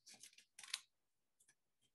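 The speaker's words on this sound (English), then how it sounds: "I'm going to cut out a rectangle with my scissors." Scissors cut a rectangle out of paper in a few short snips, quick crisp bursts with pauses between them, close and fairly quiet.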